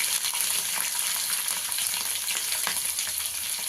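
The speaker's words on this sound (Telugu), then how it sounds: "ఇందులో కరివేపాకు, ఫ్రై అయిన దాకా మనం ఫ్రై చేసుకున్నాం." Curry leaves frying in hot oil for lemon rice, giving a steady, loud, close sizzle with crackling pops that carries on without a break.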